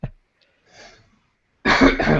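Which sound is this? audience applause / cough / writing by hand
cough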